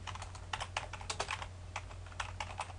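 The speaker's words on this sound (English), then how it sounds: "Let's type something here" Fingers typing on a computer keyboard, a quick uneven run of close, crisp key clicks over a low hum.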